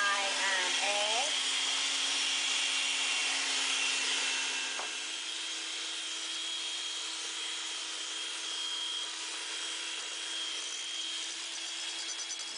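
An electric mixer blends softened butter, sugars and egg in a bowl, running as a steady close whine that drops slightly in pitch partway through and keeps a constant hum.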